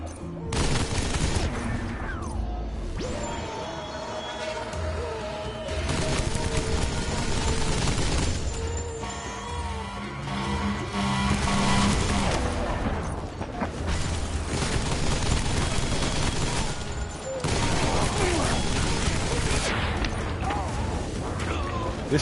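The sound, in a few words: turret gunfire in the video game Death Stranding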